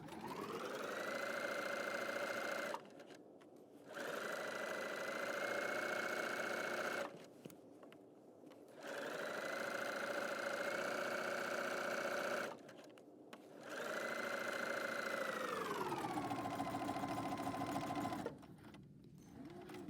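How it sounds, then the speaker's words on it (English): Domestic sewing machine stitching a pillowcase seam, its steady whirring motor running in several long bursts separated by short pauses, with a final backstitch run on the fold, close and alone. "I'm going to backstitch again right here on this fold."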